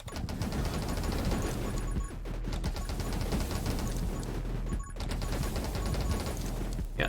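Rapid, continuous gunfire from the Flame Cannon in 20 Minutes Till Dawn, a dense stream of shots with brief gaps between bursts, loud and alone.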